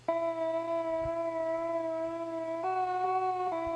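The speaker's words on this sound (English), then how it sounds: "And we basically made that by singing into a sampler" A sung vocal sample played as an instrument through a sampler, held as steady pitched tones that step to new notes twice near the end, moderately quiet, with no speech.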